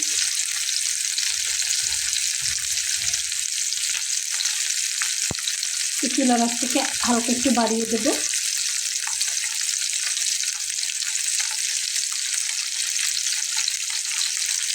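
Fish frying in oil in a non-stick pan gives a steady, moderately loud sizzle throughout, with a brief spoken remark and some stirring midway.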